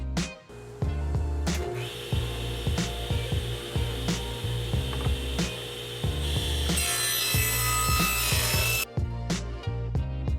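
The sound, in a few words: table saw cutting cabinet door rails and stiles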